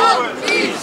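Hundreds of boxing fans outside a building in Dagestan greet the world's best lightweight with loud, continuous cheering and shouting that stays close and dense throughout.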